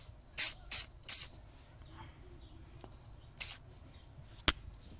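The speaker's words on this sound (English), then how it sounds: "So let's spray some WD-40 on the rubber seal of the piston." Short hissing bursts of WD-40 aerosol sprayed onto the rubber piston seal of a rear brake caliper on a 2017 Honda Accord, three quick puffs followed by a longer spray and a sharp final burst, close and distinct.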